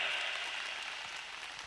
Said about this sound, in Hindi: थाने, सिर्फ तालियां बजानी